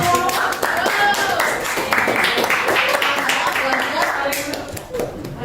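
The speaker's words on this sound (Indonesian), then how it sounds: "Tepuk tangan." A classroom group claps together during an Indonesian-language teaching session, with rhythmic, fairly loud clapping running throughout as voices mingle beneath it.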